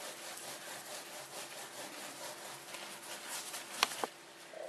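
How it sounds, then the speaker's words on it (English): Steady hand rubbing of a felt picture, a seaside beach hut scene, gives a soft continuous scratchy friction with faint rhythmic strokes, fairly quiet, with a couple of brief sharper clicks near the end. "If you want, you can actually get a little bit more vigorous with your rubbing."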